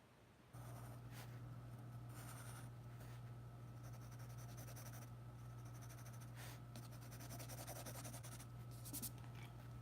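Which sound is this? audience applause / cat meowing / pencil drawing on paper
pencil drawing on paper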